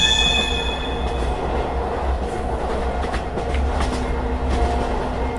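A train rolls steadily through a horror game set aboard Express No. 6, its continuous rumbling clatter and faint metallic squeal filling the whole stretch without any voices.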